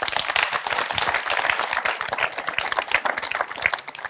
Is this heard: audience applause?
yes